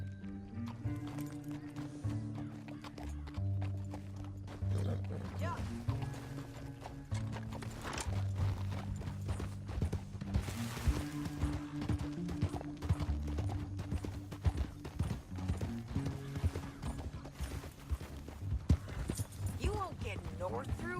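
Horse hooves clip-clop in a steady rhythm throughout in Red Dead Redemption 2, with a horse whinnying at times, voices speaking and music playing underneath.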